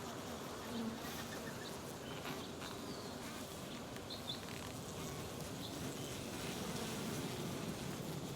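Dense, continuous buzzing of many honey bees close by at a hive, a steady droning swarm with no voices.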